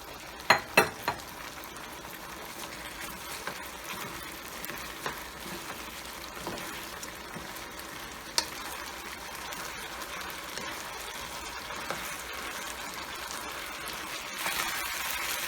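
Onion frying in a pan for Jamaican-style chicken chop suey gives a steady, soft sizzle with a few sharp utensil clinks at the start and scattered taps throughout.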